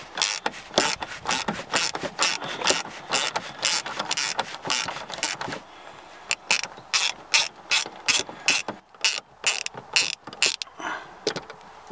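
A hand ratchet works a bolt loose on the steering column housing of a 2016 BMW 535i xDrive, a fast run of sharp, close clicks in bursts, pausing briefly midway before resuming in an even rhythm.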